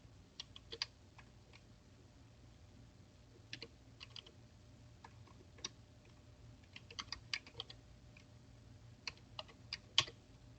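Sparse, irregular keystrokes on a computer keyboard as an email and password are entered to sign into a Zoom account; quiet, close clicks in small bursts with pauses between them, no voices.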